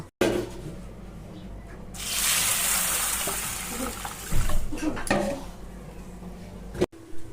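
Water is poured over kidney beans and chana dal to soak. A loud pouring burst of about two seconds sits between quieter clinks and handling noises of the vessel.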